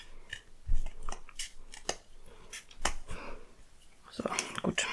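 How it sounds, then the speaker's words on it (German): Paper scissors trim the edge of a handmade paper box, giving a run of close, crisp snips and crunches at an irregular pace, with faint handling noise in between and no talk. "Ich versuche das jetzt noch ein bisschen zu versäubern hier, weil das ist schon ein bisschen schief geworden jetzt mit der Schere."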